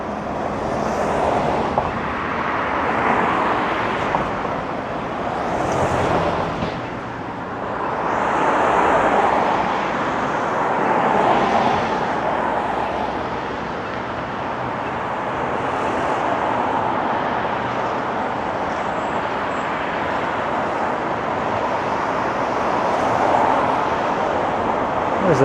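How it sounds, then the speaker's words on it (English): Steady roar of busy road traffic along Yonge Street, Toronto, with vehicles repeatedly swelling and fading as they pass close by, no one speaking. "Traffic is pretty relentless here."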